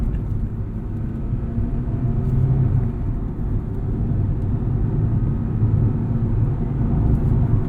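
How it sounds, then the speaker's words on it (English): A 2006 Acura RSX Type-S with a 2-liter four-cylinder engine drones from inside the cabin while driving, a steady low rumble of engine and road noise that swells gently without sharp revs. "This 2-liter 4-cylinder is revvy."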